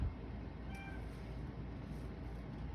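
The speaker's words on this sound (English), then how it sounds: "That's just my cat." A pet cat gives a short meow in the background of a quiet indoor room, faint and brief over low room noise.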